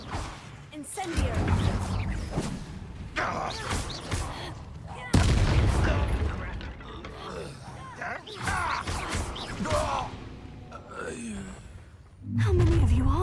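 Incendio fire spell cast in combat in Hogwarts Legacy, with repeated whooshing, crackling blasts and impacts that bunch into heavy bursts, while voices speak intermittently over the fight.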